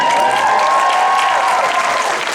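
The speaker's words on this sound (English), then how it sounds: "you're applauding our bravery for being here" Comic Con panel audience applauding, a dense, sustained wash of clapping from a large crowd filling the hall, loud and continuous with no speech over it.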